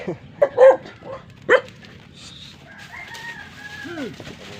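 A dog barks a few times in short bursts, fairly close, then a rooster crows in the background as the barking stops, on a goat farm.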